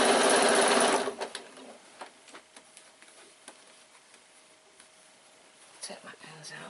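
A short burst of sewing machine stitching along bag edges opens the moment, then gives way to quiet handling with scattered light clicks and soft movement as a voice talks.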